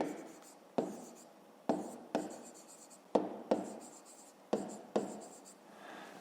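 Pen writing on paper during a fifth-grade maths exercise, a close, quiet series of short scratchy strokes in an uneven rhythm, each starting with a sharp tap.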